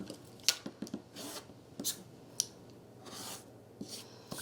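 Fabric is cut along a Creative Grids Kitty Cornered quilting ruler, giving soft, close snips and rubbing scrapes in short irregular bursts, faint and with no voices.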